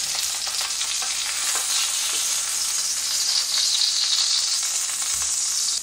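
Sausages frying in a pan for a full English breakfast give a steady, loud, close sizzle that hisses without pause and with no voices over it.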